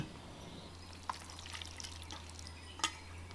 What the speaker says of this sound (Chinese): 把它们搅拌均匀